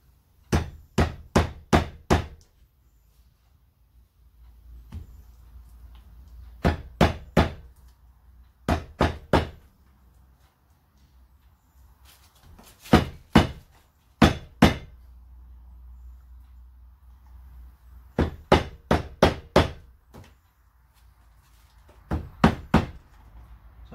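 A new Land Rover Defender axle seal is tapped into place using the old seal as a driver, heard as close, crisp knocks in quick bursts of three to five, repeated with short pauses between.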